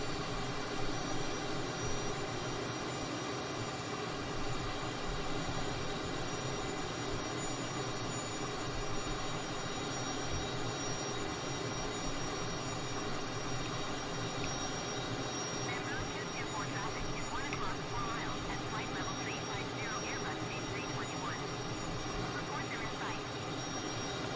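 Aircraft engines drone in steady flight, a loud continuous cabin roar with a constant hum that holds throughout, without pause or change in intensity.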